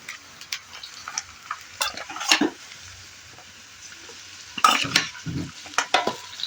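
Goat mutton pieces frying in a pan with browned onions and bay leaves, a soft continuous sizzle punctuated by clusters of sharp spoon scrapes and clinks as the meat is stirred.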